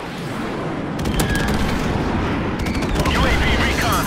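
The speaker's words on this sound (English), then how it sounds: "Friendly airstrike on the way!" Friendly airstrike explosions and gunfire in Call of Duty: Modern Warfare Remastered, with a dense, continuous roar of rumbling blasts and crackling shots that continues without a break.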